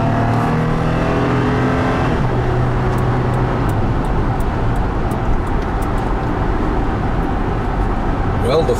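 A 2018 Toyota 4Runner Limited, a hefty SUV with full-time four-wheel drive, accelerates onto an expressway, its engine note rising into a steady broadband road and wind roar that continues loud and unbroken throughout.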